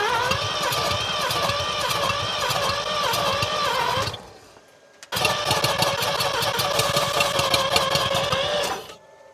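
An abandoned first-generation Mazda RX7 rotary engine cranks without catching, in two long, steady bursts of starter whirring separated by a short silent pause, fairly close and loud.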